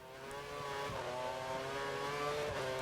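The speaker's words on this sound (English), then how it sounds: "Mono and Rambo get past me on the same lap" Formula One cars in the racing game F1 2013 scream past at the Catalunya circuit, a faint, steady high-revving engine whine with shifting pitch, heard alone without talk.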